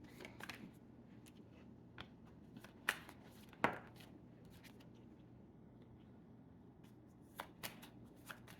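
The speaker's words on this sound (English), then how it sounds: "Okay, getting these cards." Tarot cards shuffled by hand in a quiet room, with soft riffling and sliding bursts and a few sharper snaps and taps spread irregularly across the stretch.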